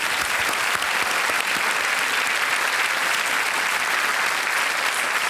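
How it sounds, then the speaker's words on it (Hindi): A television quiz-show studio audience applauds a contestant who chooses to quit, producing a dense, loud, continuous wash of clapping that holds steady throughout without any voices. "तालियों के साथ इनका अभिनंदन।"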